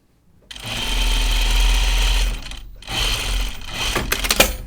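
A sewing machine stitches through fabric in two steady, close-up runs of rapid mechanical whirring, broken by a brief pause, with no voices.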